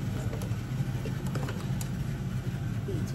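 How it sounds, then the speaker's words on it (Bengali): A household washing machine running during a home cooking session in the UK, a steady broadband churning rumble with low-frequency hum that continues unbroken and fairly loud throughout. "এই যে ওয়াশিং মেশিন ছাড়ছি, আওয়াজ হইতেছে অনেক"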